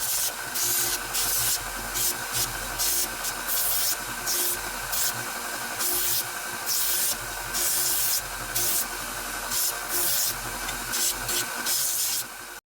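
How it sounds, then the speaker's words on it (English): Sander cleaning up a metal sliding T-bevel, giving a close, steady abrasive hiss in repeated short passes of about a second each, separated by brief lifts. "I am going to have to hit it with the sander just a little bit to kind of clean it up"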